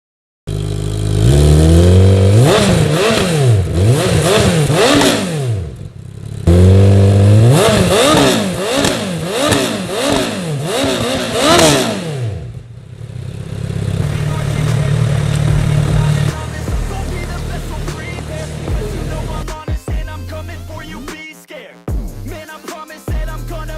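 Honda Fireblade CBR1000RR SP 2018 sportbike on its stock exhaust, revving loud and close in repeated sharp rising and falling blips, a brief pause, another burst of revs, then settling into a lower idle with some clatter near the end.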